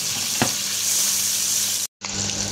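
Garlic fries in a hot pan for sautéed red squash, making a loud, steady close sizzle with one soft clink near the start and a brief silent cut near the end.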